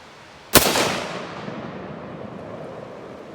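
An L1A1 rifle, gas port fully open, fires a single sharp round at a target some 50–60 meters downrange, the crack followed by a long outdoor echo that fades slowly.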